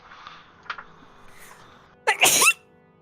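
A single sharp sneeze bursts out close to the mic during a tabletop role-playing game session, loud and brief, after a stretch of quiet murmuring.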